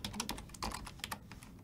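Quick bursts of key clicks as an Ansible command is typed on a computer keyboard, with irregular taps close and clear and no voices.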